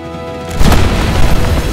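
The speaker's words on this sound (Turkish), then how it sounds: "Alemdar konağı büyük bir gürültüyle havaya uçurdu." A loud, deep boom erupts suddenly and rolls on as a rumbling crash, a gunpowder depot exploding and blowing up a mansion, with no voices.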